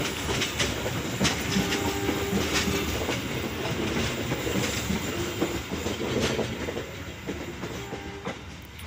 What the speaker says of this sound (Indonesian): Nah itu dia ya, keretanya sudah masuk ya.